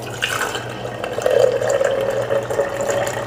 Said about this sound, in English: strain it one more time into the jar